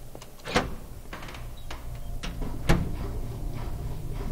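A locked door in the video game Home gives several sharp knocking rattles: two strong clacks at about half a second and near three seconds, with fainter ones in between, set against a low hum.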